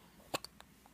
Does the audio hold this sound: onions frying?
no